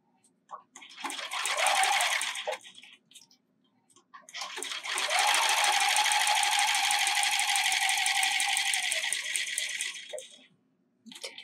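Sewing machine stitching fabric with a knee lift, running in two bursts: a short run of about two seconds, a pause, then a longer steady run of roughly five seconds, close and clear.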